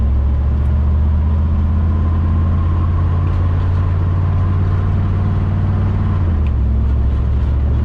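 A Chevrolet Chevelle runs with its automatic transmission being shifted through the gears, giving a loud, close, steady engine drone whose pitch drops slightly near the end.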